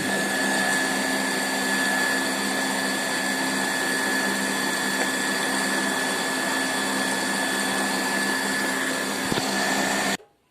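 A blender whirs steadily while mixing homemade gelato, holding one loud, continuous motor drone for about ten seconds before cutting off abruptly at the end.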